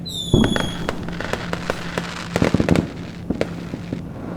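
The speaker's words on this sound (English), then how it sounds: "No, a firework." Sharp fireworks bangs and crackles burst irregularly, with a whistling rise at the start and a dense cluster of pops midway, fairly loud and close.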